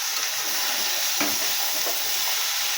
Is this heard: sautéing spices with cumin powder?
yes